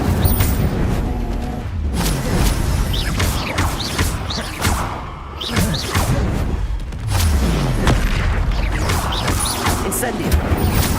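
Fire spells cast in Hogwarts Legacy battle, Incendio bursts whooshing and crashing one after another over a loud, continuous game mix with mechanical clatter, thuds and occasional voices, briefly dipping quieter midway.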